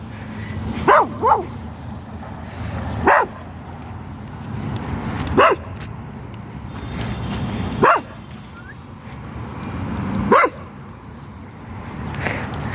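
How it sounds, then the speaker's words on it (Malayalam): A farm dog barks at intruders on rural property, five or six sharp, loud barks spaced a couple of seconds apart over steady outdoor background noise. "ഈ പറമ്പുടമസ്ഥൻ്റെ പട്ടിയാണെന്ന് തോന്നുന്നു"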